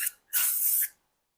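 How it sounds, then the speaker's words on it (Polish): Care spray sprayed onto a Polish MPS pistol while cleaning it after several thousand rounds: two close hissing bursts, a short one and then a longer sustained spray of about half a second, followed by silence. "Teraz care spray."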